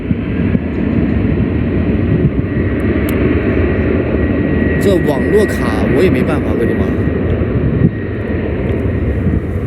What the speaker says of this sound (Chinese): 这是一架南方航空的787梦想客机